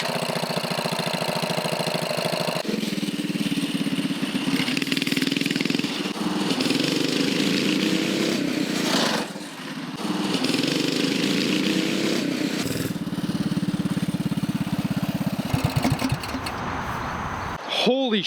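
A repaired mini bike's small engine runs loud and close for about eighteen seconds, with a steady buzzing drone that shifts in pitch and briefly dips as the throttle changes.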